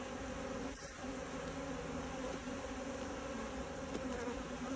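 Honeybees from a hive with about five or six frames of bees, buzzing in a dense, continuous drone close by, with no speech.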